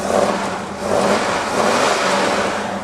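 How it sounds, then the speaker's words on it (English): Car motor revving in the open, rising and falling in a few steady swells, with a loud fan whooshing over and partly masking it. "Mostly fan as far as hearing the motor"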